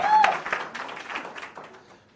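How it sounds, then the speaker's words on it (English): A workshop audience at a team-building and stakeholder expo gives a round of applause that opens with a short whistle, then a burst of mixed clapping that tapers off over about two seconds. "One more time, a round of applause."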